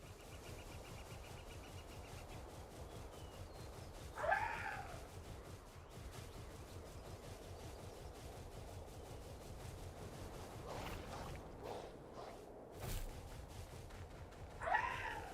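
A cat meows in the Palworld video game, two short faint cries spaced apart over a low steady background hum, with no talking.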